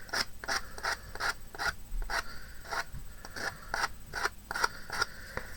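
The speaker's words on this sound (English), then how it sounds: "I'm just going round the edges and just sanding down the excess of my napkin because it's nice and dry now." Dry napkin edges are sanded down on a handmade Valentine bag or box, giving a quick, even series of short abrasive scratching strokes, close and fairly loud, with no talk.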